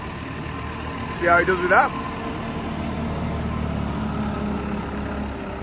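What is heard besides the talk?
tractor-driven straw blower engine running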